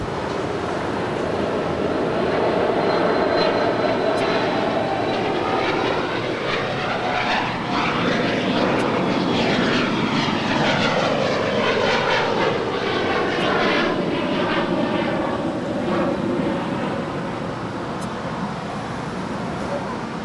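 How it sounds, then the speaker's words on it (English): A Korean Air Cargo Boeing 747-400ER lands at LAX with a loud, sustained jet roar. The whine sweeps downward in pitch as the plane passes close by, then fades slowly. "That is Korean Air Cargo, Flight 279, coming in from Anchorage. It's a 747-400ER."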